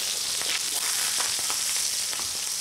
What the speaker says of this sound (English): That's the sound of the Kool Grill giving you a true barbecue sizzle and taste.